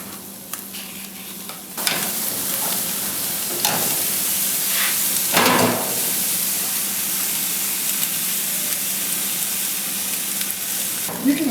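Pork ribs sizzle and spit on the cooker while being basted with a brown sugar, butter and whiskey sauce, giving a constant crackling hiss with a few louder bursts of spattering as the sauce hits.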